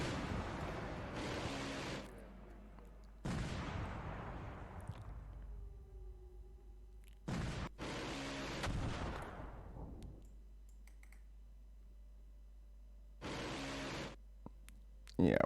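Missile strikes and explosions in the Command: Modern Operations wargame, with several loud, distant-sounding blasts whose rumbling tails fade out between quieter gaps, ending in a final sharp burst.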